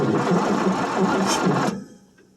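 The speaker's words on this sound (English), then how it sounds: "Keep cranking it. Hold it till it starts." A 1967 Chevrolet C10 small-block V8 cranks on a cold start after sitting about three years with a weak battery. A steady, rhythmic starter whir chugs loudly for under two seconds, then cuts off abruptly into quiet.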